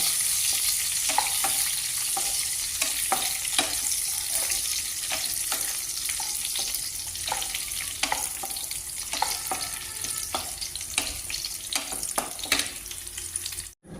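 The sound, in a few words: peanuts frying in a pan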